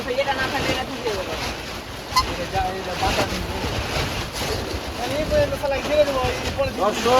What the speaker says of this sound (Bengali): দর্শক আপনারা শুনতে পাচ্ছেন আওয়াজ, বাতাসের কি তীব্রতা।